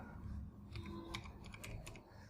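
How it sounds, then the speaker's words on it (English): A command is typed on a computer keyboard in quick, faint, irregular clicks, close by and alone, lasting a couple of seconds. "then type here sfc /scan now"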